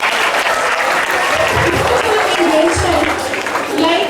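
Loud, sustained applause from a school assembly audience, dense clapping close and continuous, with voices mixed in underneath.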